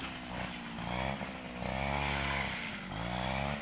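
A farm tractor drives back and forth across a Thai rice field that is being turned over to sugarcane. Its engine drones steadily and fairly close, rising and falling slightly in pitch as it moves.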